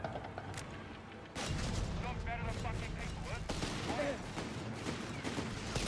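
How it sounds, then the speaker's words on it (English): Howitzer artillery fire in the Company of Heroes 3 strategy game: heavy booming blasts and explosions layered with gunfire, loud and dense throughout, under a caster's talking. "That is howitzers."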